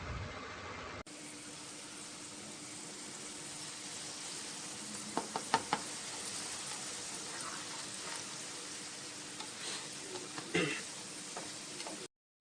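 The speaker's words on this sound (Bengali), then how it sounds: "এক চামচ মতো ধনে বাটা দিয়ে ভালো করে নেড়ে চেড়ে সবজির সঙ্গে মশলা কষিয়ে নিচ্ছি" Mixed vegetables are fried in a pan with coriander and cumin paste while being stirred for a vegetarian curry. A steady, faint sizzle runs throughout, broken by a few soft scrapes and clinks of the stirring spoon.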